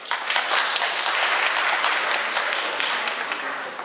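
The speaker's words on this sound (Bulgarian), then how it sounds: "Аплодисменти за Ангел Попов, режисьор, постановчик, актьор в Държавен театър" Audience applause at a school event in Karnobat, a steady broadband wash of many hands clapping throughout, fairly loud and continuous with no voices standing out.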